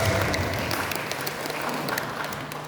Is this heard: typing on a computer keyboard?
no